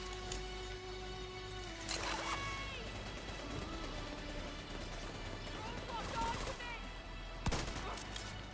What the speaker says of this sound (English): She was still shooting at me even though she was exploding